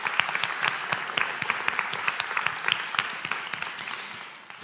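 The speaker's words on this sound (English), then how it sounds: "Yes, big round of applause." An audience gives a round of applause, with dense, lively clapping from many hands, sharp individual claps poking through and the sound tapering slightly toward the end.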